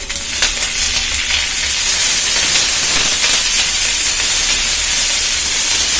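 Curry leaves and onion frying in a pan: a loud, steady sizzle and hiss of hot oil that grows denser after the first couple of seconds, with no talking.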